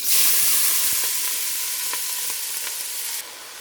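Steady, loud sizzling of peppers frying in oil in a pot, with a few soft stirring clicks and no talking.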